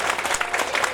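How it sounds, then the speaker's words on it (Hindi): An audience at a religious gathering claps in steady, dense applause, heard briefly without any voices over it. "जोरदार तालियां।"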